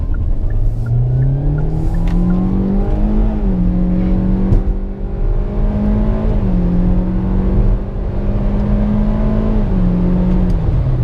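A 2021 Hyundai Elantra SEL is driven hard from inside the cabin, its engine droning loudly and rising in pitch through several gears with brief dips at each shift, steady road noise underneath.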